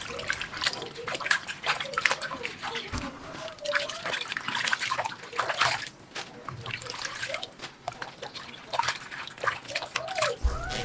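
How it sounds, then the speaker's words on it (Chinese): Sweet potato leaves being washed by hand in a basin of water, with continuous close splashing, sloshing and trickling in an irregular rhythm throughout. "下手一片片的把红薯叶清洗干净"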